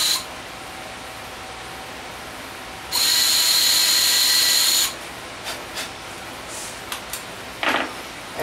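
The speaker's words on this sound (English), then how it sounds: "just pilot drill 2 small holes right through the lines you made." A power drill whines at high pitch for about two seconds, drilling two small pilot holes, close and loud, followed by a few brief clicks and a short second burst.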